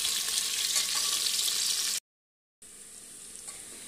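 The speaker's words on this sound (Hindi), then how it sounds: "अब हम ये प्याज डाल दे रहे हैं। प्याज को फ्रेंड्स अच्छे से लाल कर लेंगे।" Chopped onions fry in a pan for lentil dal, giving a steady, loud, close hiss of sizzling that cuts out briefly and then resumes a little softer, with no voices.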